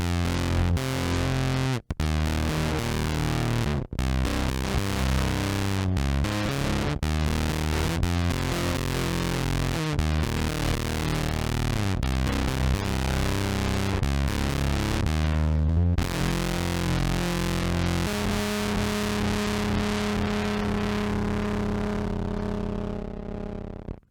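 A thick, distorted bass guitar played through a Canned Monsters Frenzy Moss Fuzz pedal plays a steady riff of sustained notes with a gritty fuzz tone, ending on a long ringing chord.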